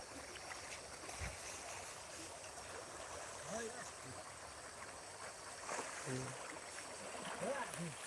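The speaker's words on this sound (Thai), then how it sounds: "น้ำไหลแรงนะคะ" Steady rushing of a fast-flowing mountain stream swollen by rain, broad and continuous, with someone speaking briefly over the water noise.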